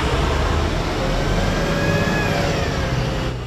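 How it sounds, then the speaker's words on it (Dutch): City buses pass on Vredenburg square in Utrecht, with a loud, continuous engine rumble and a rising whine under the traffic noise for several seconds, and no one speaking. "de bussen op het Vredenburg zijn terug"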